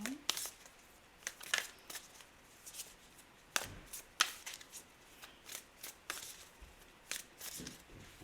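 Oracle cards being shuffled and pulled by hand, producing soft riffling and sharp flicking snaps scattered irregularly, with a person talking throughout.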